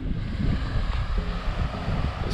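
Steady wind buffets the microphone on the open shoreline of Praia da Gorda beach, with a constant rumbling roar and a faint wash of surf beneath, no voices.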